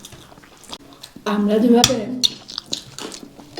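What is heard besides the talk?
eating hot rice with fried potatoes, chewing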